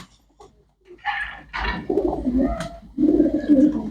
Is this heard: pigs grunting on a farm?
no